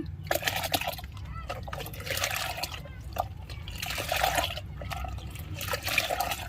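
Diluted liquid fertilizer splashes and trickles steadily into a container in repeated pours, close up.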